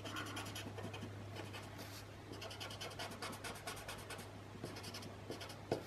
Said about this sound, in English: since I'm on the gray tone tile, the white pencil will be coming out